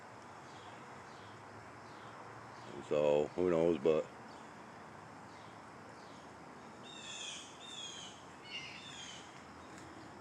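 After someone speaks briefly, a robin's chirping song carries faintly from a distance over steady outdoor hiss.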